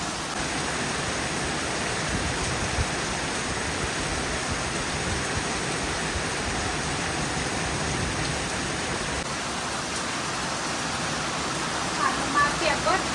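Steady rain falling at the front of a house with an awning, a continuous soft hiss of drops on surfaces throughout, fairly close, with no voices.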